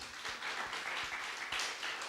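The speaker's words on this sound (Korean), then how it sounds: "큰 기쁨 교회에 박수 한번 해" A church congregation claps briefly, a soft, somewhat distant patter of many hands with a few sharper individual claps standing out.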